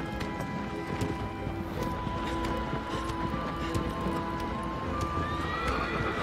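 A horse in the video game Shadow of the Colossus whinnies and neighs while its hooves clip-clop in a steady trotting rhythm, the sounds layered over a constant ambient game background.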